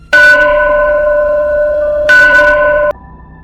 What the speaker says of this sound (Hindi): मंदिर की घंटियां फिर से अपने आप बजने लगी।